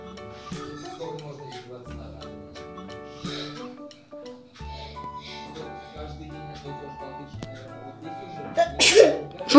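A child sneezes once, sharply and close, near the end, after a stretch of music playing in a room where children build with toy blocks.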